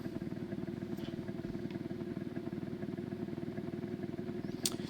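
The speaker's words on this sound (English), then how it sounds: "so the car sounds like garbage" A steady, buzzy car engine drone from the video game BeamNG holds at an even pitch throughout, slightly rough and mechanical, with a couple of faint ticks near the end.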